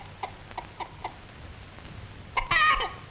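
An old farm hen clucks near kittens outdoors, giving several soft, spaced clucks followed by a louder burst of rapid clucking near the end, on an old film soundtrack.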